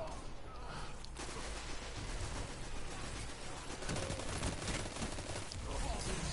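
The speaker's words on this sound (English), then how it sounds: "I just shot all 9 bullets of this clip at that dude" Gunfire in the video game Call to Arms, repeated rapid shots and bursts of automatic fire crackling through a noisy battle backdrop, fairly quiet overall, with occasional voices.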